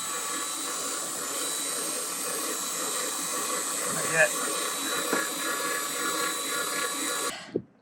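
A power drill bores slowly through plastic in a steady, high whining hiss that runs for several seconds, with a few brief knocks, and stops abruptly near the end; a voice speaks briefly over it.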